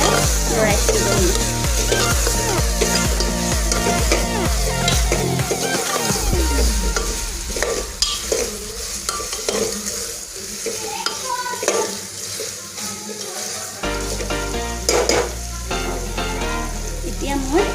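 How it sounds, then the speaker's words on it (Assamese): Fried potatoes and spices are stirred in a pan for a patal gravy, a constant loud sizzle with repeated scraping strokes of a spoon against the metal, steady throughout and without talking. "এইখিনি এতিয়া ভাল ধৰণে মছলাখিনি মিহলাই লৰাই থাকিব লাগিব"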